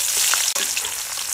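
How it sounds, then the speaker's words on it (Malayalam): Onions, raisins and cashews frying in bubbling hot oil for ghee rice, a loud, dense, steady sizzle with a brief dip midway. "ഞങ്ങൾ മുന്തിരി, അണ്ടിപ്പരിപ്പ് പിന്നെ സവാളയൊക്കെ ഒന്ന് ചോപ്പിച്ചെടുക്കാൻ വേണ്ടിയിട്ടായിരുന്നു ഗൈസ്"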